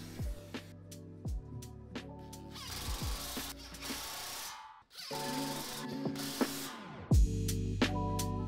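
A hand tool ratchets while prefabricated metal legs are fitted to a walnut and epoxy coffee table, with rapid clicking runs broken by pauses and a few louder power-tool bursts, all close.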